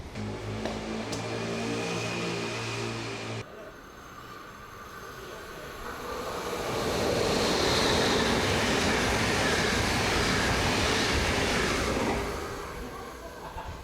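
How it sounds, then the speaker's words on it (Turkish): A non-stopping train rumbles past at close range in the Netherlands, its roar swelling to a steady peak and then fading slightly as the cars roll by. "Bizim trenimiz değildi arkadaşlar. Durmadı zaten."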